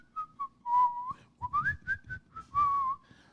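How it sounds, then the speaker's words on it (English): A policeman walking his beat whistles a cheerful tune, a clear solo melody of short and sustained notes close by, with soft footstep-like rustle underneath. "the friendly neighborhood policeman, whistling as he walks his beat"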